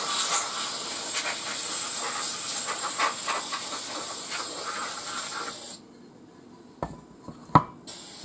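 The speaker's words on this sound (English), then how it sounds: "You can hear it running out of air," Lionel 224 engine hissing steadily as it runs out of air pressure, a continuous close hiss that cuts off abruptly into quiet, followed by a few sharp clicks and knocks.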